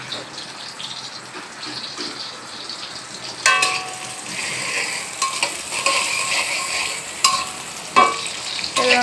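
Spices for gourd greens (lau shak) are tempered in hot oil, starting with a sudden loud sizzle partway through. A steady hiss follows, broken by occasional sharp spits and crackles.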